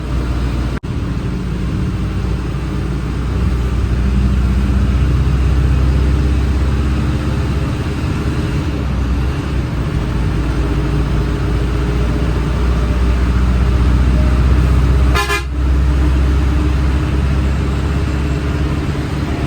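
A Scania bus engine runs at a steady, loud, low rumble close by, droning continuously without pause.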